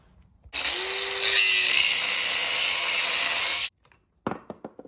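A power tool cuts through a steel end cap, 3/16 by 2 stock, on a Toyota Land Cruiser 100 Series: a loud, steady, high grinding whine that cuts off abruptly, followed by a few light metallic clanks.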